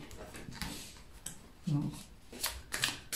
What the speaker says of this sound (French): je remets quand même ces cartes dans le paquet